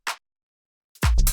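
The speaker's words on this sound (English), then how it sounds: "sort of sharper clap like this" A tight, sharp clap sample for a minimal dub house track gives one short dry snap, followed by silence and then a denser, louder burst of sound.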